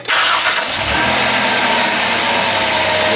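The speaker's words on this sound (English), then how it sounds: "So just for the sake of experiment, just start it up again, Hannah." A Chrysler Town & Country minivan engine cranks and catches, then settles into a loud, steady idle up close with no talking.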